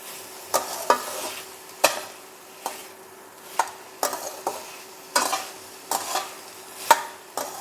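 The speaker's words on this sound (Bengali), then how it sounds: "দিয়ে আমি আবার একটু নাড়িয়ে দেবো" Vegetables with ginger and green chillies are stirred in a pan for a Bengali sago dish, with irregular scraping and clinking strokes of the utensil over a soft, continuous sizzle.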